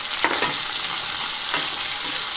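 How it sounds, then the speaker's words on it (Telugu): Okra pieces frying in hot oil in a pan, a continuous hissing sizzle with a few scraping stirs, close and alone. "ఆయిల్ హీట్ అయిన తర్వాత బెండకాయ ముక్కలు వేసేస్తున్నాను"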